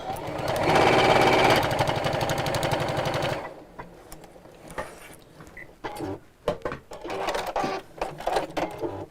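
Sewing machine running a fast continuous stitch down the sides of a fabric project for about three and a half seconds, close and fairly loud, followed by quieter handling noises and short clicks.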